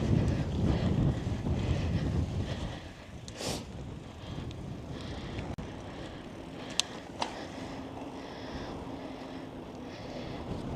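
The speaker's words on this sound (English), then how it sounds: "Yeah, it's pretty windy here today as well." Strong wind buffets the microphone in heavy, rushing gusts, loudest at the start and then settling into a steadier roar, with a few faint knocks and no talking.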